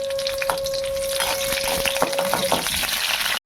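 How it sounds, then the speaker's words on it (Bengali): Panch phoron and dried red chillies sizzling in hot oil, a loud, dense, continuous crackle close by with small popping seeds and a faint tonal whine, ending abruptly. "একটু 5 ফোড়ন আর কটা শুকনো লঙ্কায় ফোড়ন দিচ্ছি।"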